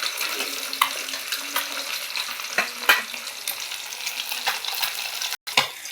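Rohu fish pieces frying in hot oil in a home kitchen, a steady crackling sizzle broken by sharp clicks and scrapes as pieces are turned, with one brief cut near the end.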